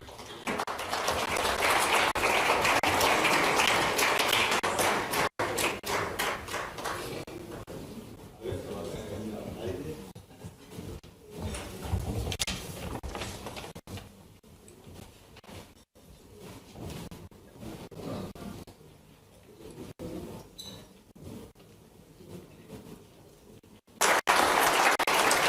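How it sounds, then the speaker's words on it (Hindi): Loud audience applause at a stage event welcoming diaspora guests, a dense roar of clapping in the first seconds that drops to a lower, uneven crowd murmur before a burst returns at the end. "जोरदार तालियां."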